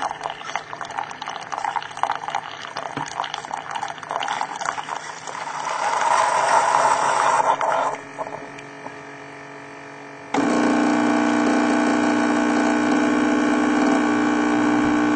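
A coffee maker gurgles and hisses as it pumps water, followed by a steady, loud mechanical hum with bubbling underneath.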